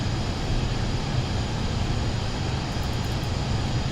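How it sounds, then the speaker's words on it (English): Steady broadband roar of a Pilatus PC-24 business jet in the Microsoft Flight Simulator 2024 video game, a continuous even engine and air rush with a low rumble, holding constant throughout with no voices. "We're using a Pilatus PC-24."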